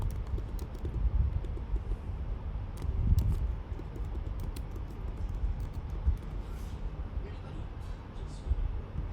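Fingers type steadily on a computer keyboard while entering an email address, with soft rapid clicks running throughout and a few sharper keystrokes standing out.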